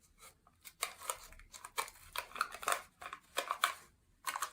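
Strips of adhesive tape ripped and pressed onto a homemade musical instrument, a series of short crackling tears and scrapes in quick bursts, close and fairly quiet with no talking.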